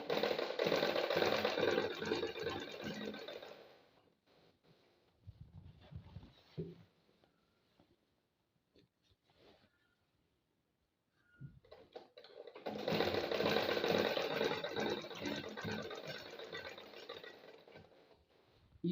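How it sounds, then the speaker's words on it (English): A sewing machine stitches along a zipper in two loud, steady bursts of motor whir and needle clatter, separated by a quieter pause with faint handling sounds while the zip is held in place. "I'll keep sewing until I get to the end"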